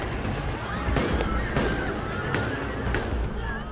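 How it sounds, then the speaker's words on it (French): Several sharp reports of tear gas grenades being fired by French CRS riot police during a city-square clash, spaced irregularly over a dense, loud crowd and street din, with voices mixed in. "Pour contrer les casseurs, ils répliquent par des tirs de lacrymogènes, l'arme favorite des CRS."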